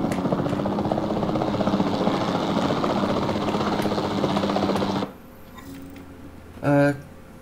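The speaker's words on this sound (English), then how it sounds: "Then the sensible thing is to take a capture team helicopter." A capture team helicopter in Jurassic World Evolution 2 gives off a loud, steady rotor chop for about five seconds and then cuts out, followed by quieter game sounds and a short tonal cue.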